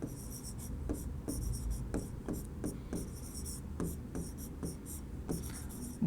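Pen or pencil writing by hand on paper while working through a maths problem on the remainder theorem, a run of close, dry scratching strokes with short pauses between them, steady and alone.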